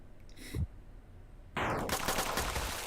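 Rapid gunfire in Draw, a western dueling video game built for high fire rate, bursts in loud and sustained after a brief earlier shot, with dense overlapping reports trailing off.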